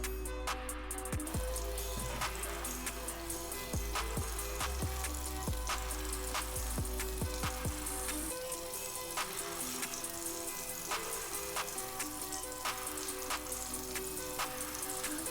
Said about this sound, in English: On each side, you're gonna cook the shrimp for about 4 to 5 minutes on each side.